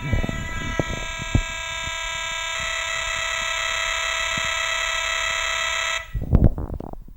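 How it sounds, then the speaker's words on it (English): A home computer saving a BASIC program to cassette tape over a stereo cable emits a continuous steady tonal data screech, loud and unbroken for six seconds, with a few clicks beneath it before stopping abruptly into brief handling noise. "we hear beeps containing the program data"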